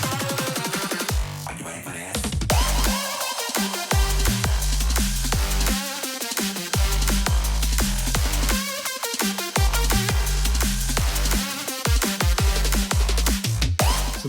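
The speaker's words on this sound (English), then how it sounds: "So that's a super fun, wild EDM dubstep banger." A cyberpunk-themed EDM dubstep track plays loud and continuous with heavy pounding bass drops, dense synth layers and a brief breakdown near the start.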